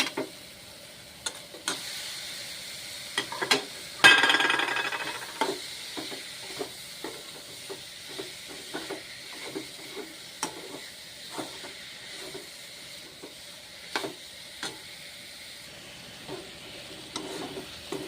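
Mushrooms added to a pan of hot spiced oil with peas for a curry sizzle and hiss steadily, with a loud burst as they go in and then repeated scraping stirs throughout, no voices.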